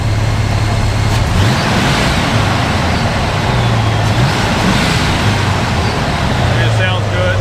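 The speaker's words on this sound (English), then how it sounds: "Go ahead and rev it up." A 1978 Chevy Cheyenne pickup engine idles close by and is revved several times, the low engine note rising and falling under steady broadband noise, with a voice briefly speaking.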